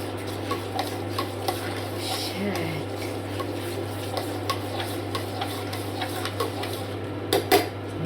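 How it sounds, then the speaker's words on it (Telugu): A spoon stirs ragi porridge in a pot, making soft repeated scrapes and light clinks over a steady low hum, with a few sharper knocks near the end. "ఇలా కలుపుతూనే ఉండాలి."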